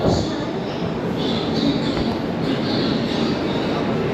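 A dense, continuous roar of rail noise at a busy Indian train station, with a rumbling train and a constant wash of background activity, steady throughout.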